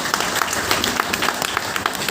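Audience applause for a remarkable 93-year-old teacher, a steady patter of clapping hands at moderate level through the whole stretch, with no voices over it.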